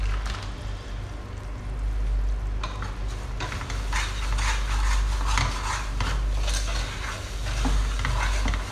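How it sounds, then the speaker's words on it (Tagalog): Sugar caramelizing in a pan for Filipino biko, a steady sizzle with repeated scraping and clinking as a utensil stirs against the pan bottom, close and continuous. "Hayaan mo lang na mag-caramelize yung sugar mo."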